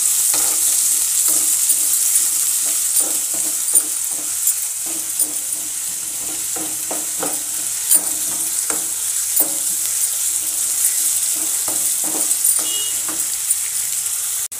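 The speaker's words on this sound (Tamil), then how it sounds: "இந்த வெங்காயத்தையும் இதில் போட்டுக்கலாம். வெங்காயம் வந்து நல்லா வதங்கணும்." Onions sizzle steadily in a hot frying pan while a utensil scrapes and taps the pan in irregular stirring strokes, cooking down for a Maggi masala pasta.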